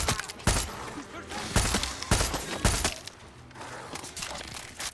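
Rapid AK rifle bursts in Far Cry 6 crack out in several loud, sharp volleys with brief gaps, near and punchy over game ambience, with faint talk underneath.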